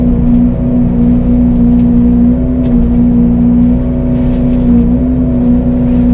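Fecon FMX36 forestry mulcher running on high hydraulic flow while grinding a rotten fallen tree, giving a loud, constant droning whine with a strong steady tone and faint ticks of debris over it, close by and continuous.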